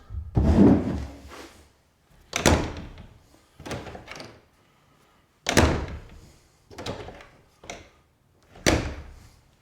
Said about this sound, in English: So I'm going to close this door, and we'll see how it works.